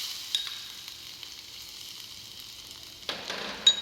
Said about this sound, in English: Now add the chopped garlic.